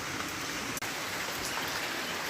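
Heavy rain falls in a dense, even hiss with no pauses, and a single brief tap cuts through partway.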